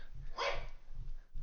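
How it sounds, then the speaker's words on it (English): A recording of dogs barking played back during a headset microphone test, with one muffled, fairly faint bark over low background rumble. "That is the sound of dogs barking."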